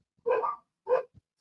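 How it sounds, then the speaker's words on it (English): Dogs indoors give two loud, close barks a moment apart, the first drawn out and the second shorter, with a third bark just starting at the end and no talk. "Yeah, I hear dogs."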